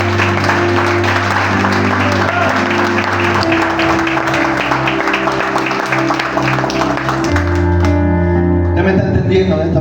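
A church congregation applauds in a sustained burst of clapping, close and full, with sustained tones running beneath it and a voice coming in as the applause fades near the end.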